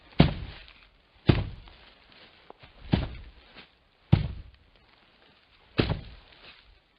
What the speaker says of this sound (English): whenever you hear a movement opportunity that sounds like this,